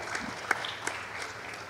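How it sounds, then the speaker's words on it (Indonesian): Brief audience applause at an Indonesian youth leadership forum, a short burst of scattered clapping, moderate in level, with a few sharper claps standing out. "Tepuk tangan untuk Kang Emil."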